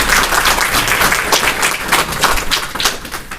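Close, loud applause from a seated audience during a spiritual talk, a dense rapid patter of many hands clapping at steady intensity throughout.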